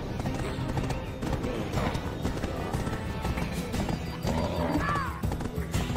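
A horse in the Black Desert Online video game clip-clops steadily and loudly across the ground, and a clear whinny rises near the end.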